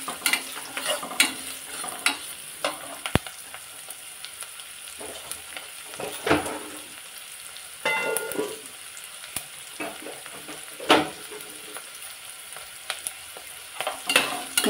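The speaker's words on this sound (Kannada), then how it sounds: "ನೋಡಿ ಈ ಥರ ಎಣ್ಣೆಯಲ್ಲಿ ಫ್ರೈ ಆಗಬೇಕು ಚೆನ್ನಾಗಿ" Long-cut green chili fries in oil in a pan for chana masala, with a constant sizzle and repeated stirring scrapes and knocks from a spoon, close and clear.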